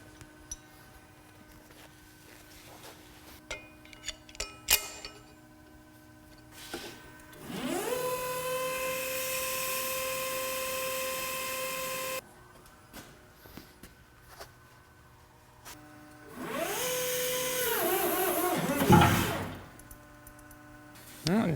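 A forklift raises the heavy knee off a Lucas 441B boring mill in a machine shop: two sustained whining hydraulic-lift runs of several seconds each, fairly loud, separated by quieter clanks and shop movement.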